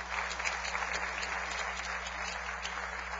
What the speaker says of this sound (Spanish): Hermano Gustavo Espina, le damos un aplauso al Señor por su vida.